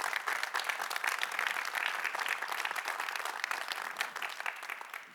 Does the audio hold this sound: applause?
yes